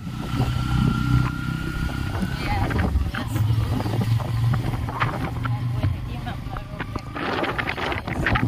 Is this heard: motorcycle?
yes